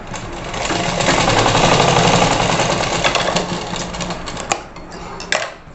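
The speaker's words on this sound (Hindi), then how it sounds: "इस कपड़े की हम एक यहाँ से हल्की सिलाई मारेंगे, एक सिलाई मारेंगे" An electric sewing machine runs in a steady rapid whir while stitching net blouse fabric, close and fairly loud, slowing near the end with a few clicks.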